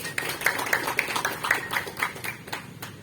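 Audience clapping for an honoree at a student organisation's inauguration ceremony, a modest scattering of claps with a few sharp individual hits, moderately faint and fading toward the end.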